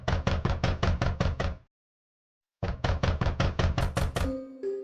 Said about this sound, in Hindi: कौन है जो इतनी जोर जोर से मेरा दरवाजा तोड़ रहा है?